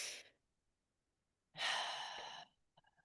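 A deep breath during a calming stress-relief tapping session: a long, full inhale or exhale follows a brief earlier breath and a quiet gap, then fades into soft trailing breath noises.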